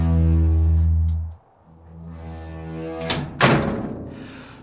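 Door sound effect in an audio drama, where a sustained tonal drone cuts off into near silence, then a sharp clack and thump of the door sound fairly close, with no talk.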